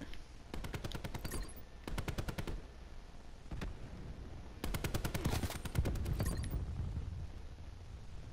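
Video-game gunfire sounds in several rapid automatic bursts, with sharp rhythmic shots separated by brief pauses and a few single reports between them, all over a continuous ambient background.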